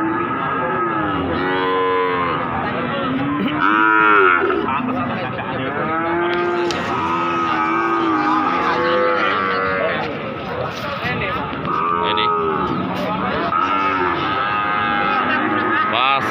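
Cattle, including female PO cows and Limousin breeding stock, moo repeatedly at the Pasar Pon Jaken livestock market, a dense chorus of overlapping calls, some near and some farther off, with voices talking faintly underneath.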